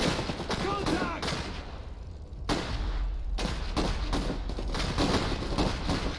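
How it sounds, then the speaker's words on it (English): Machine gun fire from a moving MG platform in the Iron Harvest strategy game rattles in repeated bursts mixed with booming impacts, steady and moderately loud across the whole stretch. "I didn't wait for the machine gun to do its job."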